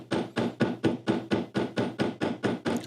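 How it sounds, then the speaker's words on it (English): A small tack hammer taps gently on a little anvil to crimp parts of a leather cowboy boot bag, with about a dozen evenly spaced, close metallic taps. "take our little anvil and then a small tack hammer and just real gently crimp those all the way over"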